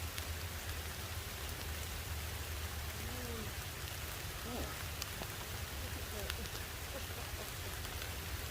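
Steady rain falls outdoors during a bee swarm capture, a constant soft hiss of drops with a few faint distant sounds mixed in, no clear talk.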